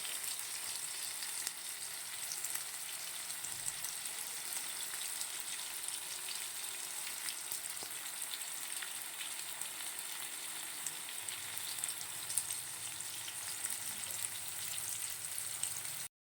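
Potatoes frying in hot oil in a pan give a steady, even sizzle and crackle that holds for the whole stretch, close and moderately loud, with no voices over it.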